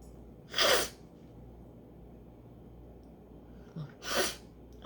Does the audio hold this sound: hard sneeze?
yes